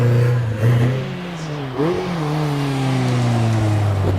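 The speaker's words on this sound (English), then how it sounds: "Richard Price in the Caterham 7 gets off the line" A Caterham 7 race car launches off the line at a hillclimb, its engine revving hard through rising pitch sweeps with a quick gear change, loud and close then pulling away.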